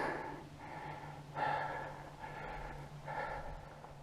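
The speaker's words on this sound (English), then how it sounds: "this is how heavily I'm breathing. I'm not making it up." Heavy, laboured breathing from a hiker climbing uphill on a multi-day backcountry trek, four or five loud, close breaths in a steady rhythm over a low background hum, with no talking.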